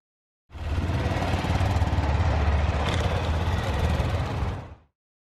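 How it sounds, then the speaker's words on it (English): New Suzuki DR-Z4S and SM motorcycles pull away together on a demo ride, their engines a quiet, steady rumble that swells briefly and then cuts off. "a couple guys going out on the demo ride, but this kind of shows how quiet the new DR-Z4S and SM are"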